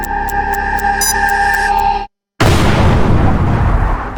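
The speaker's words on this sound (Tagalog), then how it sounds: "Napakalakas ng pagsabog na yun!" A bomb blast erupts after a brief silence as a loud, sustained roaring boom that rumbles on without fading, coming right after tonal electronic music in a superhero skit.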